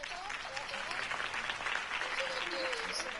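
A crowd applauds a Harvey Dent campaign speech in a Batman video game, a dense, steady wash of clapping with a few faint cheers mixed in, lasting throughout.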